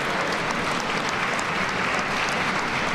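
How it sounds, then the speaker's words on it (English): Sustained round of applause from an audience at a birthday celebration for Mayor Harold Washington, a steady dense wash of clapping throughout with no voices standing out. "I think she deserves a round of applause"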